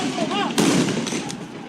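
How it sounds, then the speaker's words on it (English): Police stun grenades going off during protests in Tel Aviv, one sharp loud bang partway through, cutting over crowd shouting and chaotic street noise. "Loud protests and even louder bangs as police fire stun grenades in Tel Aviv."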